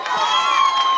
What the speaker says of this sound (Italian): fatemi un bel applauso, fatemi sentire fin là dietro.